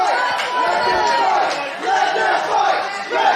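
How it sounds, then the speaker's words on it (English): A wrestling crowd reacting to a draw ruling, a dense roar of shouting and booing voices that rises and falls in waves, loud and continuous throughout. "You hear the crowd. They don't want to draw."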